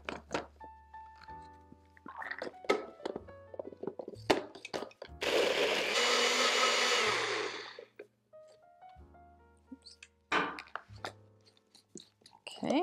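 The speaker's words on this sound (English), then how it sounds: "we're gonna blend this in the blender until it's really smooth" A blender whirs loudly for about three seconds as it pulverizes dates for a sugar-free vegan custard, set between scattered kitchen clatter and knocks.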